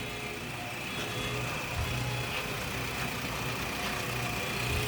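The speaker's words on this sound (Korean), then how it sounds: "엔진 소리 들려드릴게요." Kia K7 VG350 with a 3.5-litre V6 gasoline engine idling with the hood open, a low, smooth, steady hum with a faint belt whir and no other noises, quiet and even throughout.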